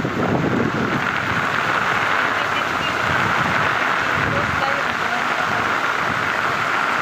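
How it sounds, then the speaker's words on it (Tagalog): Steady heavy typhoon rain hisses and patters across surfaces, a constant loud wash of water with gusty wind, no voices. "sa kasalukuyan ay binabagyo kami. Kita nyo naman ng daan. Lahat umuulan."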